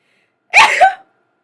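A single sharp human sneeze, loud and close, lasting about half a second and surrounded by silence.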